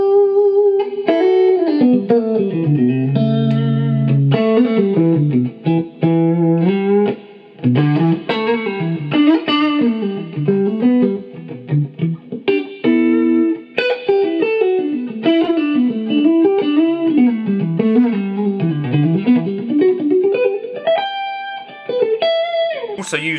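An electric guitar played through a Suhr amp with the volume at about 5, giving a slightly distorted, chorus-tinged tone as melodic runs and chords play continuously, alone and without talk.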